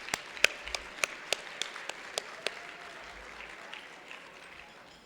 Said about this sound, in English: let's give yourself a great hand of applause this evening